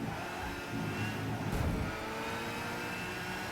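A race car engine in Gran Turismo 5 drones steadily at moderate volume as it accelerates in a drag race past a Dodge Viper, with a brief swell partway through.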